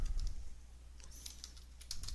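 Keys tapped on a computer keyboard while entering a place name into mapping software, a few soft scattered clicks in two short bursts against quiet room hum.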